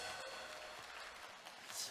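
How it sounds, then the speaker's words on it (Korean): Audience applause for a speaker at the close of a lecture event: dense, steady clapping that fills the whole stretch at moderate, even loudness, with no voices over it. "감사의 박수를 보내주시기 바랍니다"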